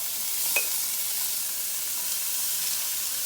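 Peas and yellow onions soften in a hot pan for shrimp fried rice, giving a soft, steady close sizzle with a faint hiss and one small clink early on.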